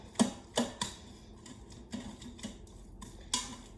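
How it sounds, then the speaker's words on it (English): Light clinks and taps of a spoon in a pot ring out as spinach and spices are stirred together, with about eight irregular knocks, a few louder near the start and at the end, close and quiet with no talking. "Stir the spinach and the spices together before I put the lid on"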